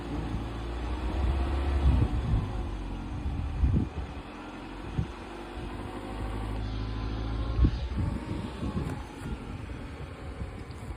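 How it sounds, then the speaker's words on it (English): A car engine idles and revs during a first driving lesson, a low rumble rising and falling over several seconds, with wind noise and a few thumps from inside the cabin. "That engine's about to explode."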